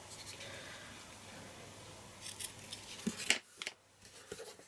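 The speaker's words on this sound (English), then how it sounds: "I think that might be a tad too long, so I'll just cut some of it off." Scissors snip through ribbon or twine on a cardstock fancy-fold bookmark craft project, a few quick close cuts around the middle of a quiet stretch.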